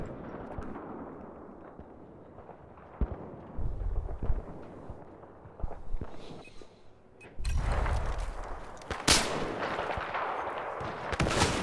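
Shots crack out in a shooting video game, with scattered single gunshots at first and then heavier bursts of fire and booms building toward the end, all loud and close.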